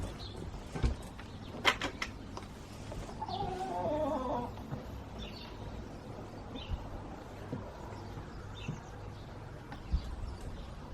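Newly arrived hens cluck softly in a garden allotment, low murmuring calls rising briefly in the middle, over faint outdoor background with occasional knocks.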